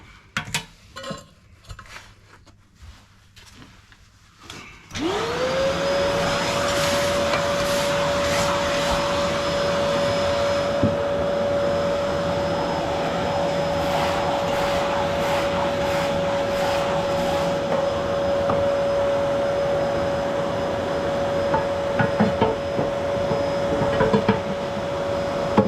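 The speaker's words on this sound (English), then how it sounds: "I'm just going to vacuum it off." A vacuum cleaner switches on after a few seconds of clattering and then runs loud and steady with a constant whine while cleaning out a Stovax Stockton 3 wood stove, its tone wavering slightly as the nozzle shifts.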